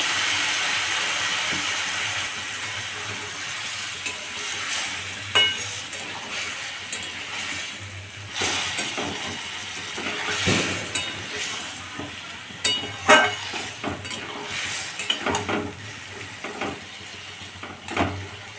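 Potatoes for kosha aloor dom cook in a pan with a little added water, giving a steady close sizzle and steamy hiss with scattered clinks and scrapes of stirring, no talk.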